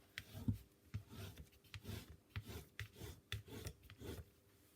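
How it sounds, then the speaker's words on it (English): Patchwork cotton fabric is burnished down by hand with quick, soft rubbing strokes, close and quiet, in a steady uneven rhythm of about a dozen scrapes. "I'll just burnish that down just so that it sticks."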